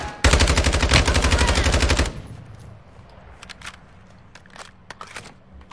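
Rapid automatic gunfire from Call of Duty: Warzone rattles loud and close for about two seconds, then stops abruptly, leaving scattered fainter shots, clicks and footsteps in the game.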